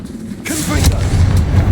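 The Confringo blasting spell fires in Hogwarts Legacy with a rushing whoosh that swells into a loud, close, rumbling burst and keeps booming to the end.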